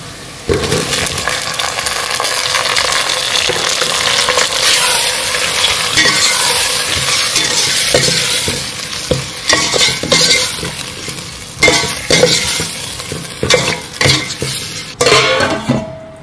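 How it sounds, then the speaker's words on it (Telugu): Tomatoes with ginger-garlic paste, coriander powder, turmeric and salt stirred in a pan for chicken tahari, a loud continuous sizzle with repeated clinks and scrapes of a metal spoon against the pan, and no voices. "ధనియాల పొడి, పసుపు, ఉప్పు, టమాటోస్ వేసుకొని మంచిగా కలుపుకోండి."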